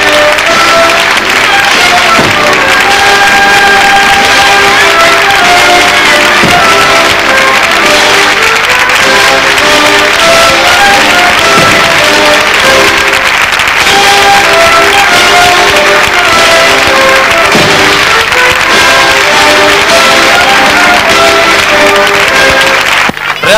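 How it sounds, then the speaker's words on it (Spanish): Loud, dense applause and cheering from a crowd at a plaza ceremony on Extremadura Day in Guadalupe, sustained clapping with scattered shouts throughout, close and continuous. "Aplausos y vítores fueron la síntesis de este intenso momento vivido a las 2 de la tarde del Día de Extremadura"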